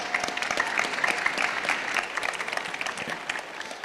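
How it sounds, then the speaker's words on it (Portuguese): Audience applause at a Portuguese talk on small businesses and healthy eating, a steady dense wash of many hands clapping that stays loud and even throughout. "Uma salva de palmas para..."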